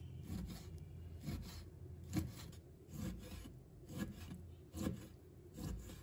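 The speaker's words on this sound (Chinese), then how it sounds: "把它切成薄片，" Knife slicing a piece of pork belly into thin slices on a cutting board, a series of soft rasping strokes at a fairly even rhythm, close and quiet with no talking.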